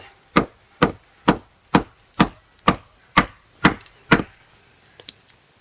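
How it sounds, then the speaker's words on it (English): A knife spine is struck repeatedly to baton through birch wood: nine sharp, loud wooden thwacks at an even steady rhythm, about one every half second, followed by two faint taps, with no talking. "you place the knife in the middle, and you can start hitting at the top of it"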